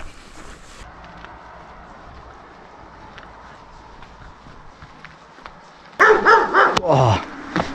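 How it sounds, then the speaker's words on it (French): A dog in a village barks suddenly at a passing hiker, several loud close barks bursting out after a quiet stretch of footsteps and ambient sound. "il m'a fait peur le chien"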